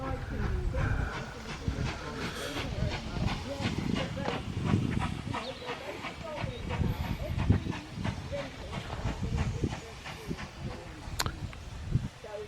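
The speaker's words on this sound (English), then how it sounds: "It's mostly diesels, but this first train is a steam one." Steam locomotive on the West Somerset Railway, heard from trackside with hissing steam and rhythmic chuffing and rumble building over the run, while a person talks nearby.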